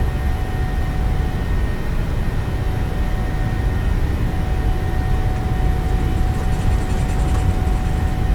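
Boeing 737-800 jet engines at takeoff thrust in a PMDG flight simulator, departing Christchurch: a steady, loud broadband roar with a low rumble that holds evenly throughout, no voices.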